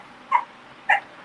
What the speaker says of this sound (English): sorry for my barking dog,